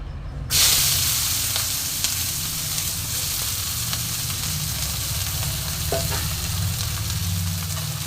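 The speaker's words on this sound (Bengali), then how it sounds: "এবার দেখো এই ভাজা তেলের মধ্যে দিয়ে দেবো আমি খানিকটা পেঁয়াজ কুচি" Chopped onion drops into very hot, almost burnt oil while cooking sour-spicy katla fish curry, setting off a loud, steady sizzle that continues with stirring for the length of the clip.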